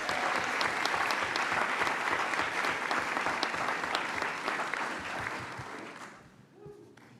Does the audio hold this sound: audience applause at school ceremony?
yes